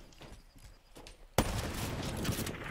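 A sniper rifle fires a single sharp, loud shot in Black Ops 3, bursting out of quieter game ambience and leaving a sustained noisy tail.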